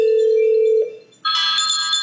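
A VoIP softphone called through a 3G GSM VoIP gateway gives a long steady tone that fades out, then a bright electronic ring starts and continues loud and close.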